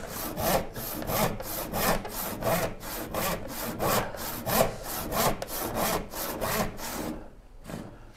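A hand saw cuts through wood for cabinet parts in a steady rhythm of about sixteen push-and-pull strokes, close and clear. The strokes stop near the end, leaving a few lighter scrapes.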